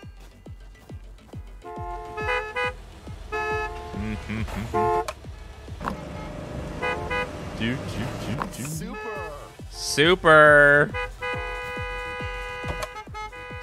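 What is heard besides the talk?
car horns honking in Gas Station Simulator video game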